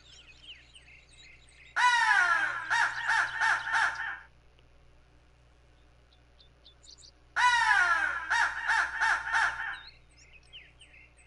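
Two loud bouts of crow caws in the woods near a turkey hunting food plot, each a quick run of harsh repeated calls, with faint bird calls in the quiet gaps.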